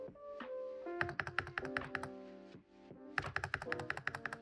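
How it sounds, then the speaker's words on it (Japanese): Custom Glorious GMMK Pro mechanical keyboard with a PCB plate typing with a deep, muted thock: bursts of rapid keystrokes, a short pause, then another quick flurry, close up with no talking. "今まで使ってきたキーボードの中でも一番いい落ち着いた音をしてます"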